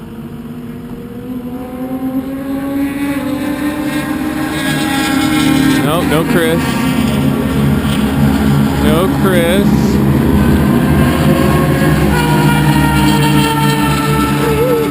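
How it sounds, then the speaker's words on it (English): A Suzuki GSX-R sport bike screams around Texas World Speedway, its engine drone rising and falling in pitch as it passes, with other racing engines underneath and a person speaking briefly over the noise. "That's his Gixxer screaming that you just heard."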